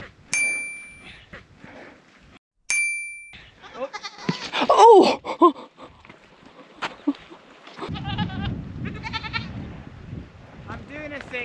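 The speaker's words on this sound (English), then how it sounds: "I'm somehow involved in rounding up a shepherd's sheep in the searing heat" Sheep being rounded up by a shepherd in searing midday heat give scattered bleats amid clanging bell-like tones, with people talking and shuffling movement throughout.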